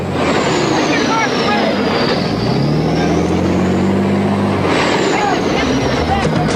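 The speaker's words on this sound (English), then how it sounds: "He's backing off, the box truck goes again." A box truck pulls away again during a police chase, its engine revving up with a low rumble over constant road and helicopter-like noise, while a voice talks over it.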